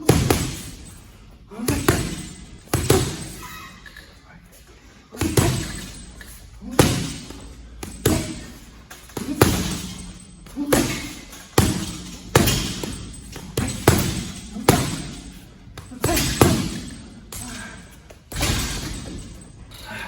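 Punches landing with Hayabusa T3 boxing gloves, a run of about twenty heavy thuds at an uneven steady pace, close and loud, each fading quickly before the next.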